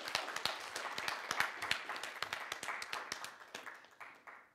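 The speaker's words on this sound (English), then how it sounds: "Please give him a round of applause." A small crowd at a student government debate claps, sharp irregular hand claps that build briefly and then taper off toward the end.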